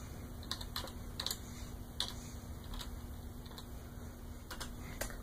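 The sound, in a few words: typing a command on a computer keyboard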